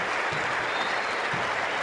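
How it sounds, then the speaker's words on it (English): Basketball crowd at a national team game in Mar del Plata, 2011, applauding in a sustained, dense roar of clapping that fills the arena evenly. "And the crowd here cheering"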